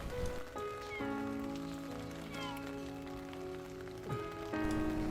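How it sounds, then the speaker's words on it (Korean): Sudden rain falls outdoors as a soft, steady patter. Sustained music tones play over it throughout. "갑자기 내리는 비"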